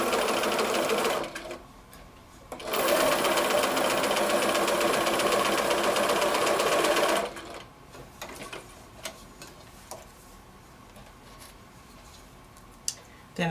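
A sewing machine stitches pre-cut quilt pieces, giving a short run, then a sustained loud whirring burst of about four seconds, followed by quiet clicks and handling sounds.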